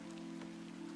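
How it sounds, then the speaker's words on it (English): Rain in the adventure game The Excavation of Hob's Barrow: a brief, steady patter of rain on a surface with a constant low hum underneath, no voices. "And it's raining."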